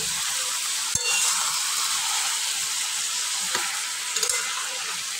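Taro leaves cooked with a hilsa fish head sauté in a pan in Bengali style, giving a steady, close sizzle with a few sharp spatula knocks and scrapes against the pan.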